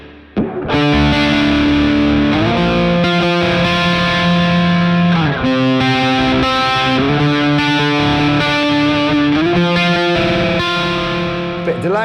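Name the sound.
electric guitar through Mooer GE200 effects unit with reverb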